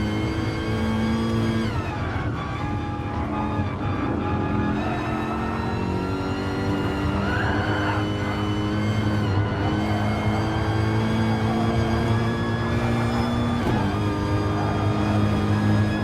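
A Gran Turismo Gr.3 race car roars loud and close in an onboard view during an online championship race at Maggiore GP, its engine note sustained and rising and falling through gear changes, with no talking.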